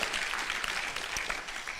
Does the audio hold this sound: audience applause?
yes